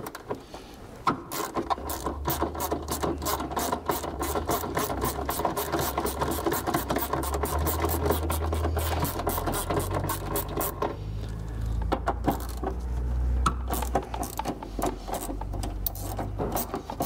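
12 millimeter bolts coming out of the airbox on a 3rd Gen Toyota Tacoma, with rapid, steady ratchet-like clicking running throughout over a low mechanical rumble, close up and with no one talking.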